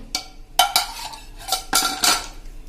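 Peanuts are tossed together with leftover spiced flour in a bowl for homemade sing bhujia. A utensil scrapes and clinks against the dish in a handful of quick, close stirring strokes with short pauses between them.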